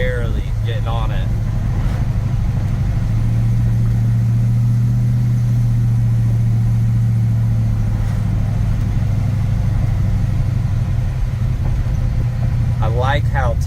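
A stroked, supercharged LS engine in a 1970 Chevrolet C10 truck cruises at light throttle, a steady loud drone with low engine rumble and a faint supercharger whine running throughout.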